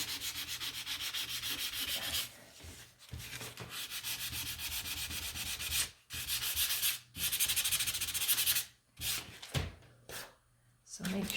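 Sandpaper rubs over a painted wooden gnome craft in steady back-and-forth strokes, close up and scratchy, pausing briefly several times before starting again.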